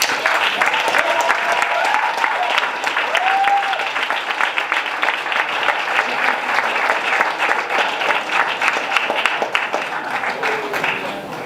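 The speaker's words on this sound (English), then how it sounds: "give him a round of applause" An audience at a youth indaba in a Durban hotel venue applauds a welcomed speaker, a sustained, loud round of many hands clapping with a few voices and cheers mixed in.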